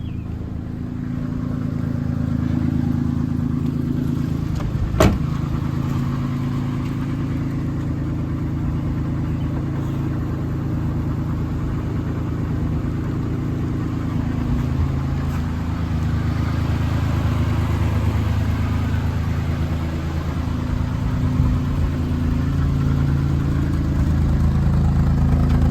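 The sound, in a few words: 1972 BMW Bavaria engine idling after cold start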